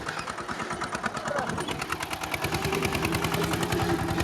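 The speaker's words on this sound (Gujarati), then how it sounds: "જોવો આ બધા અહીં ટ્રેક્ટર હાલે ભાઈ નું" Mini tractor engine running on a farm, a steady rapid chugging putter that grows slightly louder and more insistent, close by, with no speech over it.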